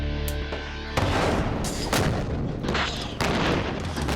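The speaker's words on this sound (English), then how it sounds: "The cannon triggered. The ANFO went off" A cannon fires and an ANFO charge detonates in an outdoor shockwave experiment with a sail, giving a sharp blast followed by a sustained roaring rumble with further booming surges, loud and close, with no talk.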